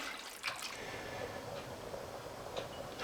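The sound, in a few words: pot of water and pasta coming to the boil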